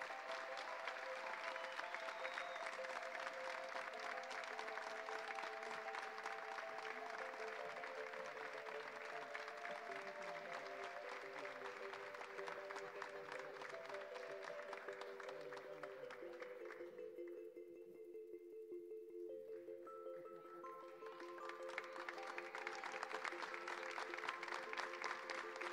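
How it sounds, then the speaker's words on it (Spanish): An audience applauds at a choir's tenth-anniversary concert, steady clapping from a hall full of people that dips briefly near the middle before swelling again, a little distant and soft in level. "Un fuerte aplauso."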